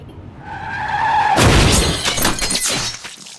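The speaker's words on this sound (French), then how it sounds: "ses potes Beth et June, elle perd son mari et sa fille dans un accident de voiture." A car crash in the horror film The Descent: a rising engine whine and tyre screech end in a sudden loud impact of smashing metal and shattering glass, followed by scattered debris and clatter.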